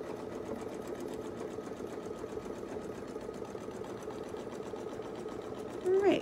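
A sewing machine stitches a quilt using Westalee Fun and Fancy and feathers quilting templates, giving a steady, close, continuous whirring hum throughout, with a brief louder squeak near the end.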